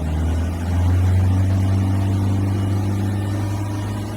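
A Ford Transit van engine with a blocked diesel particulate filter is held at a steady 3000 RPM, a close, loud, even droning hum with a low tone that shifts slightly partway through.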